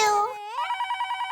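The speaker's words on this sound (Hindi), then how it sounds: "फोन आया।" A telephone rings in a Mumbai household kitchen scene, a short electronic ringtone pulsing in steady repeated beeps after a brief burst of voice.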